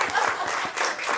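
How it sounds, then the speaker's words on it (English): A short burst of audience applause, many hands clapping in a dense, steady patter with a faint voice mixed in. "Can we just clap?"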